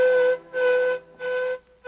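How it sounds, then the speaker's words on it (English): A mine whistle in a radio drama blows three steady, tonal blasts separated by short gaps, clear and fairly loud with no voices over it. "I heard the whistle at the mine."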